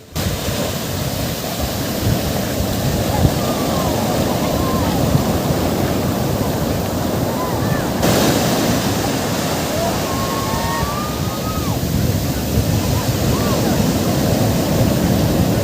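Sea waves break continuously on Bagda beach in Odisha, a loud, steady roar of surf with some wind buffeting the microphone.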